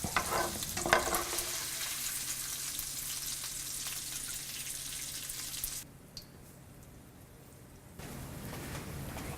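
Bacon frying in a pan sizzles steadily and close, with a brief stirring clatter early on, dropping to near silence for a couple of seconds before the sizzle returns.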